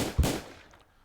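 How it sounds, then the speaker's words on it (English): A single sharp gunshot sound effect, a short loud crack with a brief decaying tail in an otherwise quiet moment. "Send some gunshots at them"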